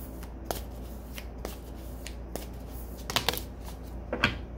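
Tarot cards are shuffled in quick, papery riffles and soft snaps, a few crisp bursts scattered over a low steady background hum with no talking.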